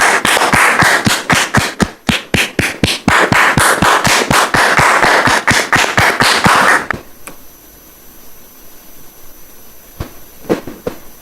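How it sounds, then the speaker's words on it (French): Rhythmic, sharp claps ring out in a fast steady beat for about seven seconds, then stop abruptly, leaving quiet with a few isolated taps. "nous allons recevoir maintenant Dame Rose sous vos applaudissements"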